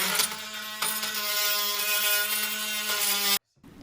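A steady, buzzing oscillating multi-tool cut with a dense high-pitched whine, cutting rubber flooring inside a school bus, continuing for a few seconds before stopping abruptly.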